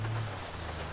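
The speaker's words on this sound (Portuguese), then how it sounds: "pormenor aqui da chuva a cair. Está muito bonito mesmo." Rain falls steadily in Grand Theft Auto V, a soft continuous hiss of drops over a low background hum, with no voices.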